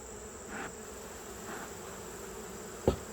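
Honey bees on a hive frame hum in a steady, faint buzz over a constant drone, with a few louder passes and a brief sharp knock near the end.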